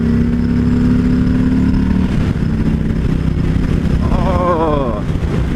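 A 2018 Harley-Davidson Street Bob motorcycle's engine drones steadily, then its pitch rises and wavers as it accelerates, with heavy wind rush throughout and a voice briefly talking near the end.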